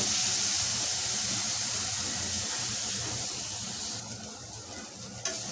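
Dried shrimp roasting in a pan make a soft, steady hiss and crackle that fades slightly, with a faint scrape near the end and no talking.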